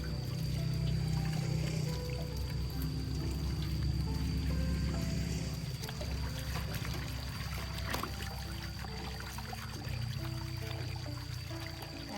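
Water pouring and trickling while yanang leaves and shallots are washed outdoors for cooking, a steady close stream with small splashes and dribbles over a constant background hum, no talk.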